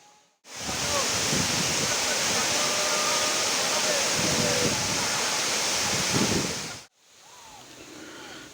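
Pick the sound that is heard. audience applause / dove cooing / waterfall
waterfall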